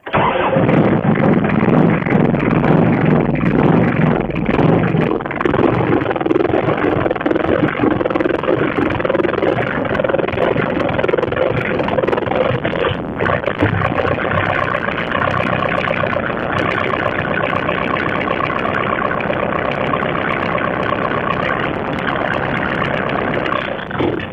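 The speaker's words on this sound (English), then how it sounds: "The engine now starts the way it's supposed to without cranking." The diesel engine of a Westsail 32 sailboat rumbles loudly and steadily after starting, settling into a continuous close idle with a harsh, dense drone.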